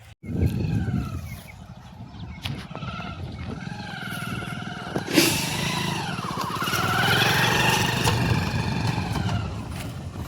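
A motorbike engine runs steadily close by, a continuous low drone with a few rising and falling revs over about ten seconds, no talking.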